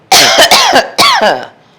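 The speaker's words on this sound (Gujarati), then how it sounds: "આ 2 દિવસથી ખાંસી થઈ ગઈ છે." Three loud coughs close to the microphone in quick succession, the last one trailing off.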